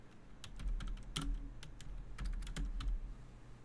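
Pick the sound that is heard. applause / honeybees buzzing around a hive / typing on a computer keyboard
typing on a computer keyboard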